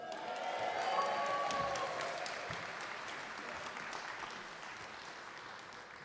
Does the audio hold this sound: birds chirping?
no